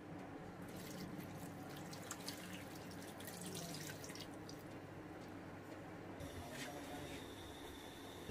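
About one and a half glasses of water are poured into a pan of mixed green chili, salt and turmeric for a mince dish, giving a quiet, steady splashing pour with soft trickles.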